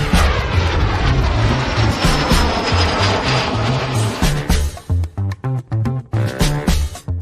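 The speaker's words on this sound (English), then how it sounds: "Yeah, it's a Cessna Turbo 206. It's a 6-passenger aircraft, 310 horsepower." A Cessna Turbo 206, a six-passenger, 310-horsepower single-engine propeller plane, drones loudly and close with a steady engine roar that later breaks into rapid rhythmic pulses.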